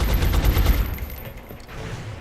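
Gunfire in the XCOM Long War video game: a loud, close burst of rapid shots that fades into a rumbling tail.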